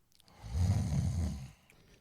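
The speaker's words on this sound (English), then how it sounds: "That was a good snore." One person gives a single deep snore, a low rasping breath that swells for about a second and then fades, close by with nothing else around it.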